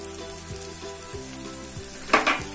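Garlic tossed into shallots already frying in a pan for Kerala-style clam meat masala: a steady oily sizzle, with a sharper burst of spattering crackle when the garlic goes in near the end.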